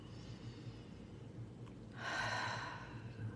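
A slow, deep breath taken during a guided morning breathing exercise, a faint, soft inhale that swells into a breathy rush near the end over quiet room noise, with no talking.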